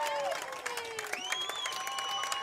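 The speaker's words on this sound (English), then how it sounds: "This Bearcat crowd has woken up here." A home football crowd cheering for the Mena Bearcats against Waldron rises in a brief wash of claps, shouts and whistle-like cries, heard from a distance.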